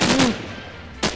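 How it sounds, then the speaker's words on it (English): Gunfire in the Minecraft video game, a short burst of shots at the start that fades into a quieter tail, followed by another sharp hit near the end. "Someone's shooting at me."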